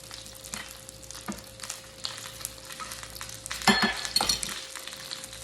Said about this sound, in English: So we're going to turn this one more time because I like a dark sear on it.